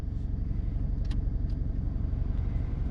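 A Mitsubishi Mirage engine idles steadily just after its first start, a close, even low rumble with a regular pulsing beat and no talk over it.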